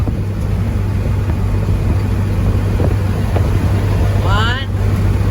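Passing cars rush by a straight truck hauling oak and poplar logs on the road, a steady broad road roar over the truck's low engine drone, ending with a brief rising whine as one vehicle goes by.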